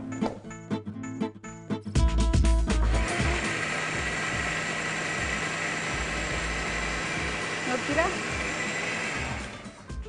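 A mixer grinder whirs steadily while grinding chutney, starting after a few clicks and a short burst of talk, then running loud and continuous to the end.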